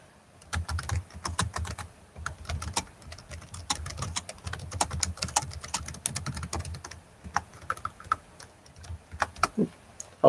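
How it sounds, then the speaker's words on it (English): Steady typing on a computer keyboard, a close, busy patter of clicks with irregular bursts and short pauses running throughout, with no voices. "I'm actually going to type in there to refresh if it's not working."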